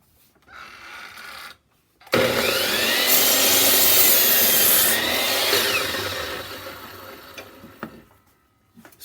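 A saw cuts wood for a dove house, trimming half an inch off each bottom side piece: a short burst, then one loud, steady rasping cut lasting about five seconds that tapers off.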